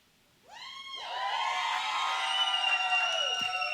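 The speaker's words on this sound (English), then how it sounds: "The crowd has gathered." A crowd at a wrestling event swells into loud cheering, whoops and shouting that rise quickly and hold steady, filling the space at a distance.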